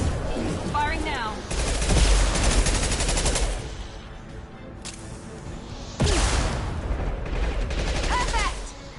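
A heavy weapon firing in the video game Mass Effect 2: two loud, dense bursts of rapid gunfire, one from about 1.5 to 3.5 seconds and another from about 6 seconds, with voices between them.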